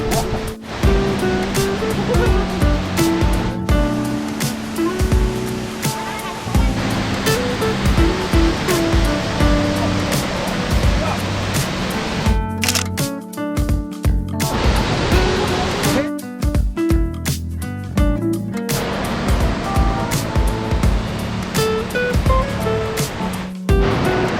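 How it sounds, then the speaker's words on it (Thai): Rain falls during a motorbike trip through Pai and Mae Hong Son in northern Thailand. A loud, continuous rushing wash carries on throughout, briefly breaking up in places. "อันนี้ฝนตก"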